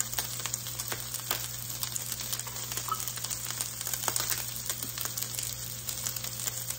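Browned chicken sizzles steadily in a pan as buffalo sauce is added, a constant bright frying hiss with small crackles and faint stirring, no voices.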